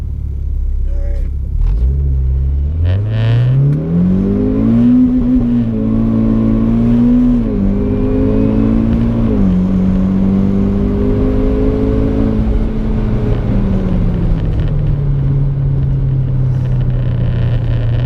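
A Chevrolet Camaro pulling away in full launch mode: a loud, close engine roar that climbs through several rising revs with brief dips at gear changes, then settles into a steady drone.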